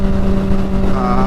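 A 2009 Honda CBR 600 RR motorcycle on the move, its engine a loud, steady drone with wind noise mixed in, close to the rider throughout.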